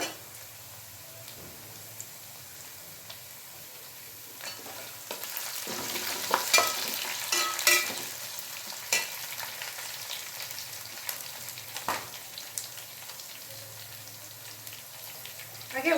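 Green chillies go into a pan of onions frying in oil for a chicken pepper dry dish: a steady soft sizzle with stirring and scraping of a spoon, louder clattering bursts in the middle.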